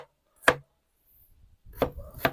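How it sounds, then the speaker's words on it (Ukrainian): Three sharp knife chops through onions on a wooden board, one isolated hit followed after a pause by two more close together, loud and near with no voices. "Рубаємо всю нашу цибулю"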